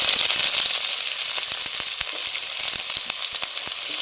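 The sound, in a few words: onion frying in hot oil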